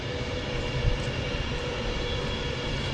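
An Avanti West Coast Class 390 Pendolino electric train passes at close range in a steady, broad rushing roar of wheels and bodywork that holds for the whole stretch, with a brief heavier thump partway through and no talk.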